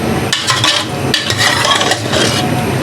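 Boiled beef tipped into a metal kadai (wok) for a smoky yogurt beef curry, with close, loud clattering, scraping and sizzling in repeated bursts.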